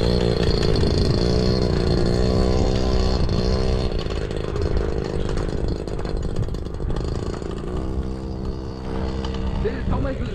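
A motorcycle engine roars continuously at close range, revving with rising and falling pitch and a heavy, rough drone throughout, while people talk over it.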